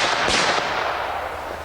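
A Smith & Wesson handgun fires a full charge load at a shooting range, one sharp loud crack followed by a long ringing, echoing decay, with no talking.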